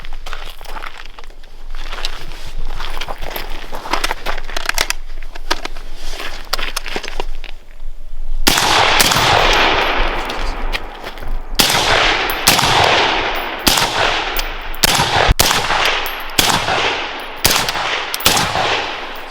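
Sharp gunshots from a rifle with a Huxwrx Ventum suppressor crack out at irregular intervals over steady wind and background noise, loud and close.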